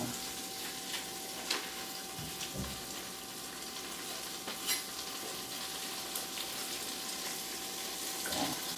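Butter sizzling steadily in a pan while bread cooks and mussels are prepared, a soft continuous frying hiss, close and even, with occasional faint clinks.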